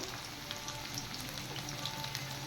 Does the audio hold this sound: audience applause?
no